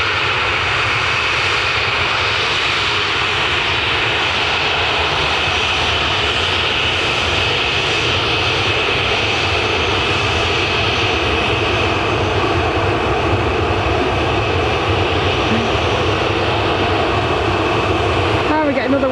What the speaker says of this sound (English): this is 737-800 going to Tenerife.